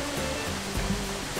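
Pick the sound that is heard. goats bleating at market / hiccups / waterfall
waterfall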